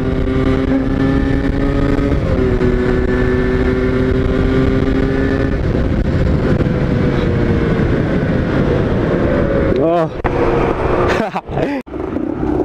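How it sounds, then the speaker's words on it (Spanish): A loud motorcycle engine holds steady at high revs, shifting pitch as it speeds along in a speed race between a Kawasaki KMX and a Yamaha DT 175, then roars past with a quick drop in pitch near the end. "Vamos a hacer un pique de velocidad."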